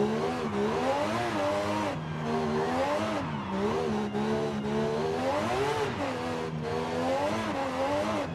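A car sliding through corners on a road in Forza Horizon 5, the engine note droning and wavering as revs rise and fall continuously, loud and close, with no talk.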